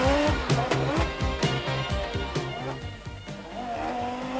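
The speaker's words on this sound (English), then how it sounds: "Councillor Mark Cornell, who sends the Audi Quattro car of Sorel van der Merwe and Frans Boshoff away from the start line." Audi Quattro rally car pulling away from the start line at the 1988 Tour de Valvoline rally, a loud close engine rising through rapid gear-rhythm revs with possible tyre squeal, heard alone.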